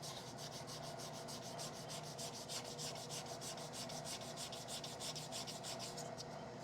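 Steady, continuous sandpaper rubbing on the inside of a cherry wood yarn bowl, working through the grits from 220 to 400, with a fast rhythmic scratch that runs close and evenly loud the whole time.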